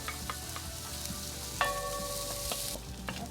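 Ginger fries in a pan with a steady hiss, and a utensil stirs and clinks against the metal now and then. A short ringing tone sounds partway through.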